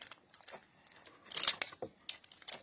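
Scissors snip quickly through plastic packaging to free a toy, a rapid series of short, crisp cuts and crinkles at close range.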